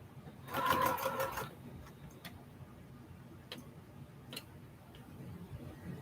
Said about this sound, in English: Don't cut your thread, just continue sewing.